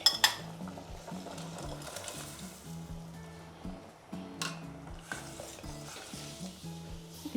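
Washed toor dal goes into a simmering North Karnataka style palya and is stirred through, giving a steady run of soft scraping and clinking from the spoon against the pot over a low sizzle, close and without talk.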